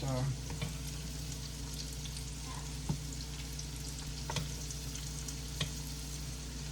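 A thick salmon piece and shrimp frying in olive oil while oil is spooned over them, a faint steady sizzle with a few small clinks, no speech heard.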